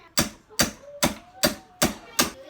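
Six sharp hammer blows at an even, steady pace on a bifold closet door part, each a loud close knock on wood with a brief ringing tail.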